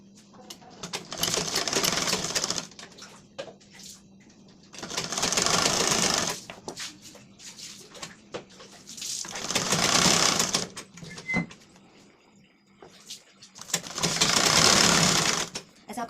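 Sewing machine stitching a narrow folded strip of piping along the side of a blouse sleeve, four long bursts of fast rattling stitches separated by quieter gaps, with a voice talking softly between them.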